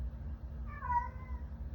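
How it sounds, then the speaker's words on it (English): A house cat gives a single short, rising meow, faint and slightly distant over a steady low hum in the room. "It's my cat."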